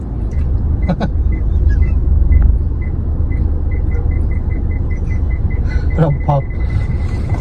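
A car rolls along slowly with a constant low engine rumble and road noise close by, while people talk briefly inside and a faint repeating chime ticks along.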